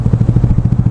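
A motorcycle close by, its engine giving a loud, rapid pulsing putter with regular beats over under a second.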